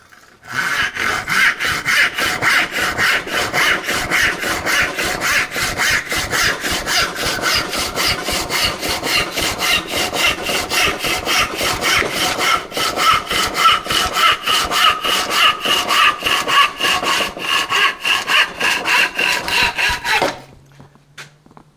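A hand saw with freshly sharpened teeth cuts through wood in steady, rapid back-and-forth strokes for about twenty seconds, loud and close, then stops.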